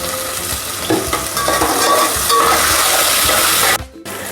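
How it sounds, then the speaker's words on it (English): Vegetables for veg sambar fry in a hot pan, a steady dense sizzle with stirring scrapes and clinks throughout, loud and close, briefly dropping away just before the end. "First make the vegetables fry, cook it nicely"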